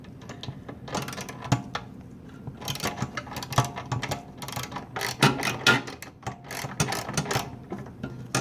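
A hand ratchet clicks away at a bolt on a Honda GX120 engine's fuel tank, quick dense metallic ticking in close bursts with small pauses, no voices.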